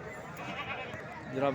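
Goats at a livestock market in Multan before Qurbani, with a brief bleat rising near the end over steady crowd chatter and people talking.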